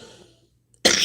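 A single sharp cough bursts out close by after a brief quiet, a harsh, breathy burst near the end, with faint room sound before it.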